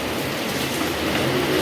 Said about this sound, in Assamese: মোৰ বৰষুণ আহি গ'ল